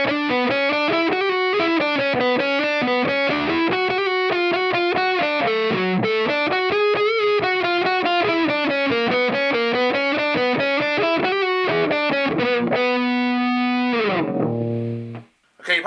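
An Ibanez RVX220 electric guitar played with heavy distortion in a hard-rock style, sustained harmonic notes and fast riffs running loud and continuously, ending on a held chord that cuts off abruptly.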